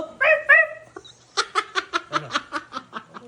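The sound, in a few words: person imitating a dog barking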